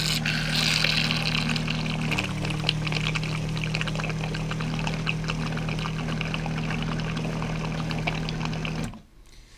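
A dry bilge system pump on a boat runs with a steady electric hum and a gurgling, pouring rush of water through its outlet, then shuts off abruptly near the end.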